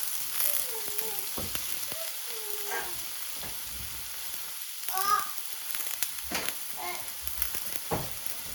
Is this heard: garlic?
yes